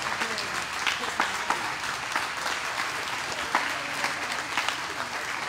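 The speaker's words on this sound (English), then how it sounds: "Give him a round of applause" A crowd claps steadily and loudly throughout, a dense, continuous burst of applause.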